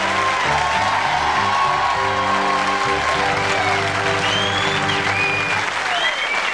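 Studio audience at a 1998 taping of This Is Your Life for music promoter Michael Gudinski applauds loudly and cheers, a dense steady wall of clapping with a few whoops, all under music-like sustained tones before fading at the end.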